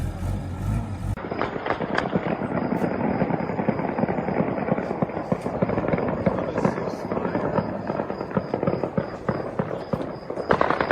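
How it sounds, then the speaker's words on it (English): Rapid bursts of celebratory gunfire crackle continuously in Tal Tamr, Syria, many sharp overlapping shots at a distance over a low mechanical rumble. "We're hearing lots of celebratory gunfire go off here in Tal Tamr"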